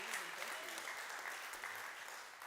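A small audience claps together in a room for a few seconds, a soft, steady patter of hands with a voice faintly underneath.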